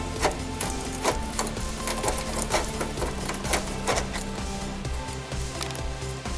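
A ratchet turning a 10mm socket to remove a nut from inside the front bumper of a 2001-2009 Chrysler PT Cruiser. The clicking is rapid and continuous, close and loud.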